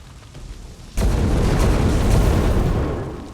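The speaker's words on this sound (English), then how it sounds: "That ridiculous cannon sound effect" A sudden heavy boom at about one second, then a sustained loud rumbling roar that slowly fades, like a big cannon blast with echoing aftermath, from the video game XCOM 2.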